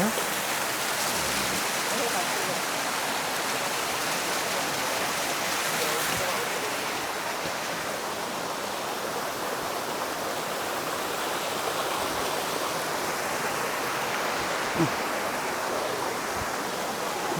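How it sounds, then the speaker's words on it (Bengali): A small hillside waterfall pours steadily over rocks nearby in Sri Lanka's hill country, a constant rushing wash of water with no breaks. "ঝর্ণা এটা একটা ছোট ঝর্ণা ওই দিক থেকে আলাদা হয়ে মেন ঝর্ণার থেকে আলাদা হয়ে এদিক দিয়ে নামছে"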